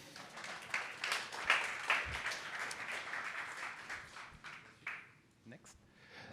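A meeting audience applauds a newly introduced team member, soft and somewhat distant clapping that fades after a few seconds and sits under faint murmuring.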